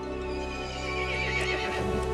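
In the Resident Evil Village video game, a loud, close horse whinny rises and falls over a steady droning game score, with a faint rhythmic clatter near the end.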